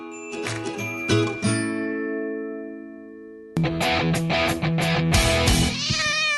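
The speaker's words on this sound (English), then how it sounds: "I have a cat right here with me, and that last story really freaked him out." A pet cat meows repeatedly and loudly up close, with bright tinkling, chime-like tones ringing alongside the calls; a quieter trailing stretch breaks the sequence before a burst of further meows and jingling resumes.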